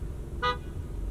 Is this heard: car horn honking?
yes